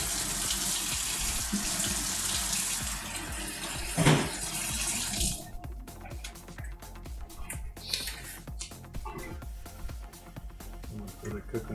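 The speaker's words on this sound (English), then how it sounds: "I'm gonna rinse off the spoon." Water runs from a kitchen tap to rinse a spoon, a steady close rushing stream that cuts off partway through, followed by light clinks and handling sounds with a person talking.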